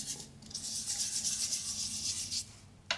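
A fingertip rubs shimmer onto an embossed junk journal book page, giving a close, continuous dry scuffing that lasts about two seconds and then stops, followed by a brief final scrape.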